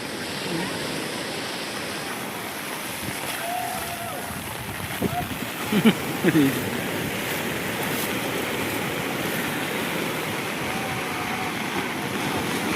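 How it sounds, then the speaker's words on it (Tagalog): Steady rushing surf and strong crashing waves at Patungan Beach in Batangas fill the background, with a few voices talking briefly over the constant roar of water. "Oh, grabe lakas ng alon."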